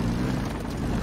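Helicopter in a video game pursuing a jeep, a steady low rotor and engine drone that fills the whole moment at constant loudness, with no talk over it.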